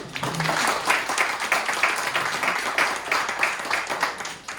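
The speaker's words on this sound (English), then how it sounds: "Give a round of applause for Aliya, please" Audience applause for a guest speaker at a tech talk on AI for good, a steady wash of many hands clapping that holds for several seconds and tapers off at the end.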